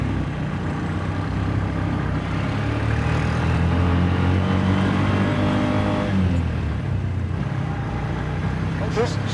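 A Bajaj fuel-injected tuk tuk engine runs loud and close while driving, a steady buzzing drone that rises in pitch as it accelerates through the gears, with voices talking over it.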